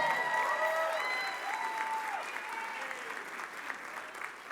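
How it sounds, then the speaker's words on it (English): Audience applause at an awards gala for a national Hispanic chamber of commerce conference, a dense, steady wash of clapping that slowly tapers, with faint background tones under it. "Let's give them a round of applause."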